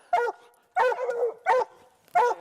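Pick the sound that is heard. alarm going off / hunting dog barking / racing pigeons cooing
hunting dog barking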